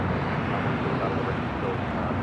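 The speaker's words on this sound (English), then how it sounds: "Spirit Airlines 387 taking off to New Orleans on the A320." A Spirit Airlines Airbus A320 taking off at Los Angeles International Airport, a loud, near, steady jet-engine roar filling the whole moment.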